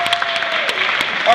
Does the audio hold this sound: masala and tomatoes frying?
no